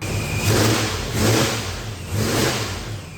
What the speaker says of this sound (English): It revs up, 2.